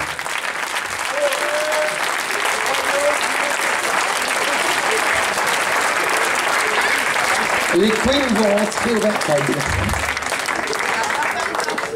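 A large audience at a Mamma Mia stage show claps loudly and continuously throughout, while a voice talks over the applause near the end.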